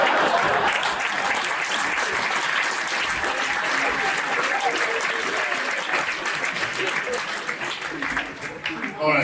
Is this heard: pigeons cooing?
no